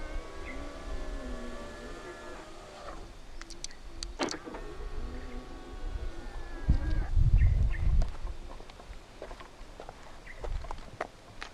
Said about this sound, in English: press and hold on the unlock button, you're able to roll down both windows in the car simultaneously